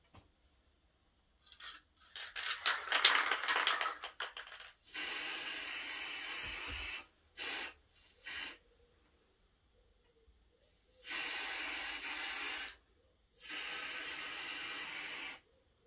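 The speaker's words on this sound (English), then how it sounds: "by spraying too close" Aerosol spray paint hisses onto a white artificial flower arrangement in three sustained, close bursts of a few seconds each, separated by quiet pauses, after an earlier stretch of rustling and handling noise.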